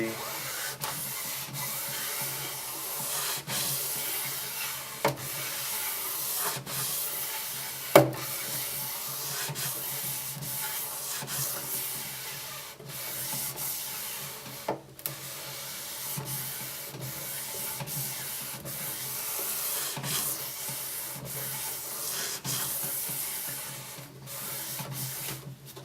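Slow, repeated rubbing strokes of 1,000-grit sandpaper on a fretless bass neck, a soft hiss rising and falling with a few brief knocks.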